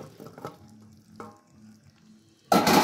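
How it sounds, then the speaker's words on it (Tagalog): Broccoli going into a hot pan with beef, bamboo and mushrooms: quiet stirring and clatter, then a sudden loud, broad sizzle that holds steady to the end, close up with no talking. "Ilalagay na rin natin ang broccoli."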